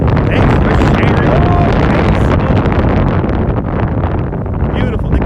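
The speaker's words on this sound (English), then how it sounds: "the wind is really strong right now" Strong wind buffets a phone microphone outdoors in Brooklyn at sunset, a loud continuous roaring rumble with gusty surges that nearly swamps a voice talking underneath.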